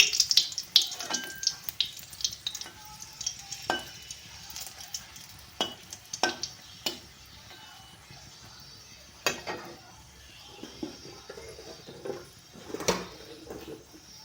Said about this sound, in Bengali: সর্ষা তেলটা গরম হয়ে যাওয়ার পর এখন আমি শুকনো লঙ্কা দিচ্ছি